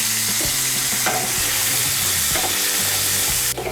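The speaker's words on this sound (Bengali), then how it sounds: "এই দেখুন আলুগুলোকে আমি লাল করে ভেজে নিয়েছি।" New potatoes frying in hot oil with salt and turmeric, a loud continuous close sizzle with repeated stirring scrapes and knocks of the spatula in the pan, no talk.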